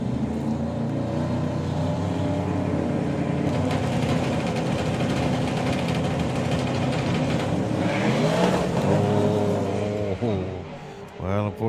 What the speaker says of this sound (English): Unfortunately, big tyre spin for Robert Slater